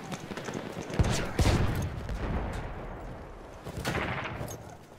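Machine gun fire in the video game Battlefield 1, with dense overlapping bursts and rattling shots that form a steady, loud battlefield barrage and swell in intensity mid-clip.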